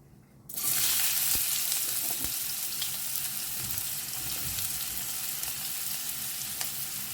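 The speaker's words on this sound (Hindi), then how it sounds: "प्याज को ना एक बढ़िया सा गोल्डन कलर आने तक हमें इसे फ्राई करना है" Two finely chopped onions start frying in a hot pan for matar paneer, a loud sizzle erupting suddenly and holding as a steady crackling hiss with faint stirring.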